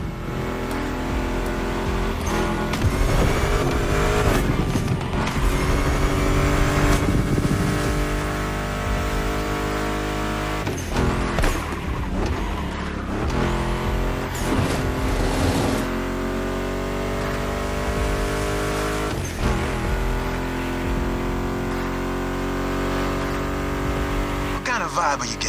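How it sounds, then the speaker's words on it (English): Ford Mustang GT muscle car engines in The Crew Motorfest roar and rev steadily over a music track, rising and falling through gear changes with a few sharp dips, while a voice talks over them. "That's my mixtape we're listening to. Meshes well with the sound of the engines, you feel me?"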